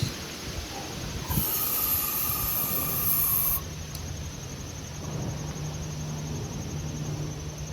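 Starting fluid is sprayed into the engine of a vintage 1974 Ransomes Sensation Bob-Cat M21 push lawnmower with a Wisconsin Marine 4 HP motor, giving one sharp, sustained aerosol hiss of about two seconds over a quiet background.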